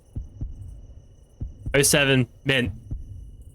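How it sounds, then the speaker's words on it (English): Throbbing heartbeat in a video game, several low thuds pulsing at a steady rhythm beneath a voice that speaks briefly in the middle. "I can hear the heartbeat."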